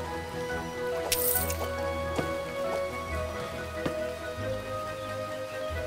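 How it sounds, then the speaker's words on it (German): Acid rain falling in the video game Starbound: irregular drips and light patter scattered over steady droning background tones, with occasional sharper drop sounds. "Oh, mit Säureregen."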